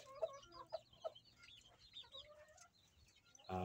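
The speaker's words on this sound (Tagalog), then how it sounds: "So rooster itong isa na to." A young black crossbred rooster, still a stag, clucks softly in a few short, quiet calls at close range, with a louder rustle or burst at the very end.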